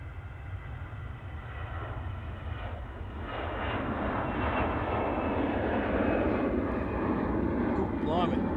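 An EasyJet airliner's jet engines roar at Manchester Airport, a broad, steady, loud rush that grows stronger partway through and holds. Someone talks briefly.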